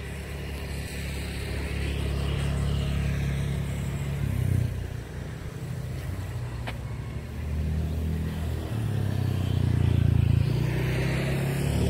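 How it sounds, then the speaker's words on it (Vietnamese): Continuous street traffic passing a corner lot on A2 street in VCN Phuoc Long 1, Nha Trang, a steady low rumble of cars and motorbikes with swells as vehicles go by, no talk. "xe cộ đi lại liên tục nên là hơi ồn một tí"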